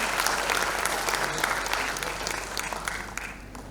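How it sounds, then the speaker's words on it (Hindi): An audience at a talk about a time bank gives a round of applause for a certificate award, moderately loud and steady, gradually tapering off. "एक बार तालियां।"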